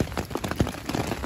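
Rain patters steadily on a tent during an overnight Appalachian Trail rainstorm in the White Mountains, a dense close drumming of drops.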